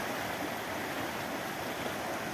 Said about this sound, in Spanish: Así está el río Cañabralejo en medio de esta lluvia de hoy, sábado 28 de septiembre de 2024.